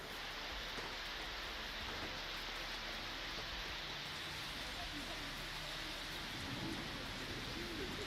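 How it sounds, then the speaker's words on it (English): Heavy rain and hail pour down in South Africa's Gauteng in a dense, constant roar with a low rumble beneath, and a voice speaks faintly under the downpour. "Heavy rainfall and hail drastically reduced visibility."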